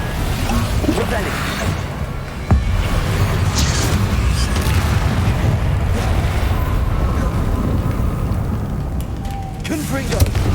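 Fiery Confringo blasting spell bursting in Hogwarts Legacy gameplay, a sharp boom landing amid a dense, continuous rumble of combat noise and effects.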